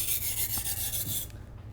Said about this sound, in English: I'm going to use the rough stone again with the shorter strokes to grind out the extreme bevel